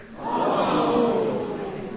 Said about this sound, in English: The crowds roar in horror and shock.